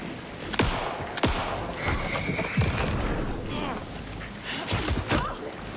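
Gunfire in the survival-horror game Alan Wake 2: several sharp shots ring out at irregular intervals, close and loud, over a dense, rumbling game soundscape with a voice talking along.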